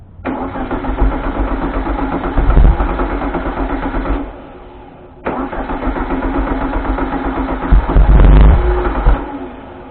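An engine being brought back to life runs in two loud bursts of roughly four seconds each, rough and surging, then drops away, with a short quiet gap between the runs.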